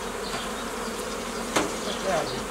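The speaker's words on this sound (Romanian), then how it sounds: "Este la amiaz și e un pic agitat albina" Agitated honeybees buzzing steadily around an opened hive with five frames during a midday inspection, a dense close drone with a brief knock partway through.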